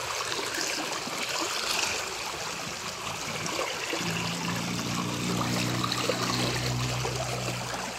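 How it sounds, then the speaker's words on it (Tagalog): A river flows steadily with a continuous rushing, trickling wash of water, close and even throughout, with a low hum joining partway through. "Yan, dito sa may ilog."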